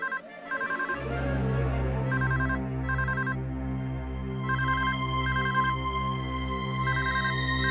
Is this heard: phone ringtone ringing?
yes